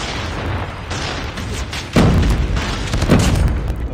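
A shotgun fires at long range in a shooter video game, giving a sharp booming blast partway through, followed by smaller bursts and echoes over a busy game soundscape.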